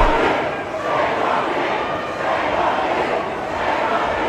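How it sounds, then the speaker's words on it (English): A large crowd of pro-Hamas protesters following a government minister in Britain, a dense continuous roar of many voices with shouting that swells and ebbs, loud and close throughout. "This is a giant crowd of pro-Hamas protesters who are following a member of the government."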